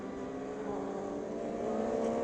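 A Suzuki GSX-R 1000 motorcycle held at full throttle on an uphill dirt road, its engine a steady, loud, continuous high-revving drone heard from the rider's seat.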